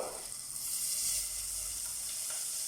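Butter sizzles and crackles in a hot pan, a bright steady hiss close by with a brief stir near the start, no talking.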